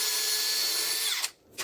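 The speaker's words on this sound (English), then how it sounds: "I will always pre-drill" A power drill pre-drills into wooden formwork for a small concrete slab, giving a steady, close, high whine that winds down after about a second, followed by a brief short burst.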